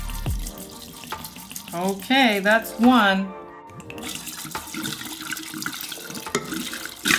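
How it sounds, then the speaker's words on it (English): Shochu is poured into a jar for homemade umeshu plum wine, a steady liquid rush and splash that follows brief speech and runs to the end. "Now that this is done, we are gonna pour in the shochu."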